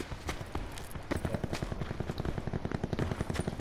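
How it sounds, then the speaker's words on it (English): Rapid automatic gunfire in a video game, a fast rhythmic stream of sharp shots fired in quick bursts, moderately quiet and continuous. "Are you shooting at someone?"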